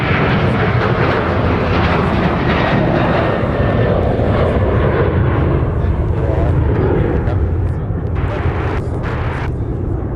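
A Delta Boeing 737-800 at Minneapolis-St. Paul airport roars with a loud, steady jet engine rumble throughout, with faint radio chatter underneath.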